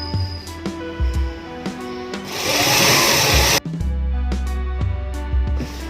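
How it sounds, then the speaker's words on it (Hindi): A sewing machine stitches seams on a patiala salwar, its motor humming in short runs and one longer, louder burst, with brief pauses between, close up and with no talking. "आधा इंच छोड़ करके सिलाई बढ़िया से 3 में चला लेना है"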